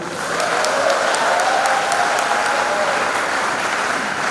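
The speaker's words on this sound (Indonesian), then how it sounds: "Bisa kita beri tepuk tangan ya." Audience applause fills a Christmas celebration for an electrical engineering department and a Mandarin language program: a steady, dense wash of clapping from a large room that holds evenly for several seconds.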